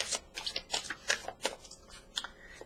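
Oracle cards being shuffled by hand, a quick series of close, crisp riffling slaps in an uneven rhythm, with no voice.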